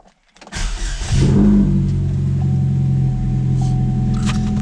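A car engine cranks and catches after a brief silence, then settles into a steady, close idle that runs on alone without speech.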